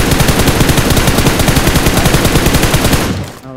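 Sustained rapid automatic gunfire in the BGMI video game, loud and close with an even, rattling rhythm of shots that cuts off abruptly near the end.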